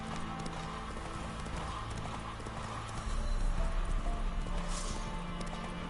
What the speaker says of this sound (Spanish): no va a pie, se va en el caballo